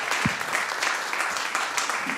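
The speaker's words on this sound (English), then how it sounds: "Let's have a very large round of applause for our guest." Audience applause for a guest performer at a small Irish-Moroccan music mashup event, a steady round of clapping from a modest crowd with a brief voice near the start.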